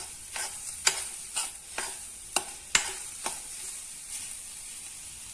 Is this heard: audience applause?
no